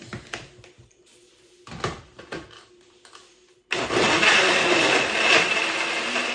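Several light taps and clicks come first, then a blender kicks on loud and whirs steadily while mixing a fruit milkshake with milk.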